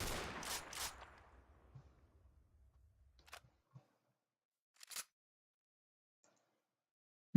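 Shots from an M40 sniper rifle in a video game: a few loud, sharp reports spaced seconds apart, with a short rumbling tail after the first and quieter gaps between them.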